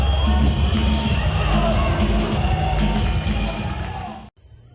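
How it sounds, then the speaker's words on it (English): Wrestling event crowd at a Fansgiving show cheering and roaring loudly and steadily as one dense wash of voices, cutting off abruptly near the end. "the crowd showing their respect for Spirit to Maya and for Jack Price."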